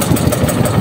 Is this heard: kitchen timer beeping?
no